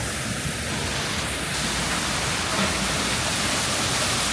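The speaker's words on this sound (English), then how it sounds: "So you have the water fountain here. I don't know if you're going to be able to hear me over this noise" A splashing water fountain at a children's play area in Kuala Lumpur gives a constant, close hiss of falling water, broad and steady throughout with no pauses.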